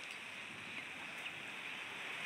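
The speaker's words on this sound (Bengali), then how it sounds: "দেখেন প্রচুর বৃষ্টি হচ্ছে" Heavy rain pours down near water during a Durga immersion at Ranaghat, a faint, steady hiss with no voices, heard for a couple of seconds.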